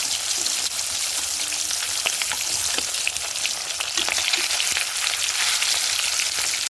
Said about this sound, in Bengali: মাছের টুকরোগুলো এক পাশ ভাজা হয়ে গেছে, এবার আরেকটাই ভালো করে ভেজে নেব